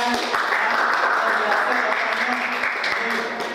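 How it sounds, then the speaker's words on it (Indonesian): A classroom of students applauds a student group, a steady wash of many hands clapping close by, sustained through the whole moment with voices mixed in underneath. "Kasih aplaus untuk temannya."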